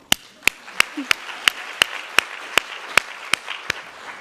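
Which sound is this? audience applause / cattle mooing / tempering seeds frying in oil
audience applause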